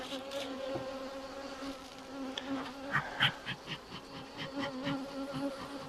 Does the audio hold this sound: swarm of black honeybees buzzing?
yes